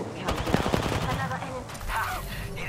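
Rapid bursts of gunfire in the battle-royale game Apex Legends, dense crackling shots filling the moment with excited voices mixed in.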